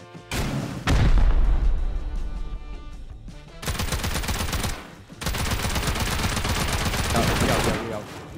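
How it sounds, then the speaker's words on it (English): Rocket blasts and bursts of automatic gunfire in the survival game Rust, loud and dense, with a heavy boom near the start and sustained rapid shooting filling most of the stretch, some speech mixed in. "Oh no, I'm just gonna rocket."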